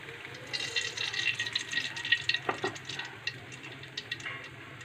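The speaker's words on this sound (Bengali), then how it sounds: "আমি ওই কড়াইতে আমি আর একটুখানি তেল দিয়ে দেবো।" Cooking oil poured into a hot wok (kadai) after frying fish, giving a soft, fairly quiet pouring and light sizzling with a few small pops, no talking.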